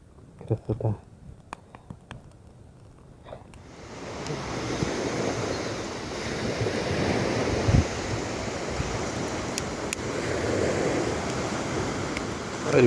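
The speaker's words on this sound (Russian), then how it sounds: "Шторм поднялся страшный." A strong night storm on the shore, with surf and waves crashing in a continuous roar and wind buffeting the microphone, after a few brief knocks and a quiet opening.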